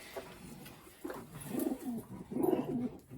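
A racing pigeon coos softly nearby, two rolling, throaty coo phrases rising after a brief quiet start, heard alone against a faint background.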